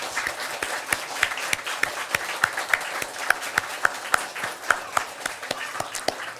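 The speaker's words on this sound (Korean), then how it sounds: "우리 그 형제자매들을 위해서 우리 격려의 박수를 좀" A church congregation at a Sunday worship service breaks into steady, dense applause of encouragement, many hands clapping together with a few sharper claps standing out, and no talking over it.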